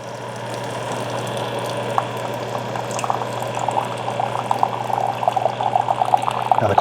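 A Keurig K-Duo Special Edition coffee maker hums and gurgles as hot water bubbles through a K-Cup, with spitting and sputtering growing louder toward the end.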